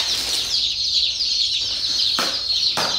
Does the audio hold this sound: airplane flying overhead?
no